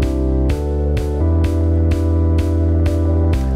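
Sidechained synth bass pumping under regular clap hits and a real acoustic kick drum, the sustained low tone ducking in a wavy rhythm about twice a second, loud and full with no talking.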